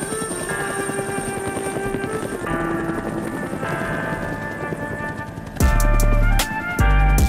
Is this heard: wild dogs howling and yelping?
no